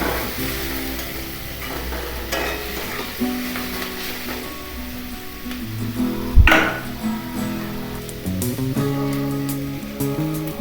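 Cabbage and vegetables are stirred and fried in a hot wok for chicken chow mein, with a soft continuous sizzle, scraping of the spatula and a sharp clank partway through.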